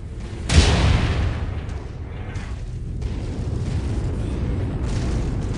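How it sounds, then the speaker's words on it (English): A single loud missile explosion in the mech combat game MechWarrior 5, a sharp boom followed by a long rumbling roar that keeps going under the action. "Incoming missile."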